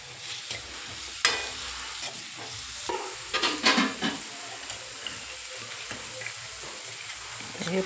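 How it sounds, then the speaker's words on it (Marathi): Onion and tomato sizzle and fry in a pan while being stirred for an egg dish, with a steady close crackle and occasional scraping stirs that stand out above it. "आणि आता हे कांदा आणि टमाटर मी पहिलं परतून घेणार चांगलं मस्त लाल होईपर्यंत"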